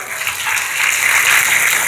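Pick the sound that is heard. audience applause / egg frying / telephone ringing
audience applause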